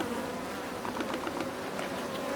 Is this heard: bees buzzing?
yes